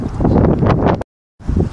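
Strong wind buffeting a microphone on the bank of the Han River at a night eel-fishing spot, a loud continuous roar that cuts out abruptly for a moment and then returns.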